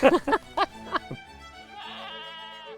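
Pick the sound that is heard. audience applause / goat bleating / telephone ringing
goat bleating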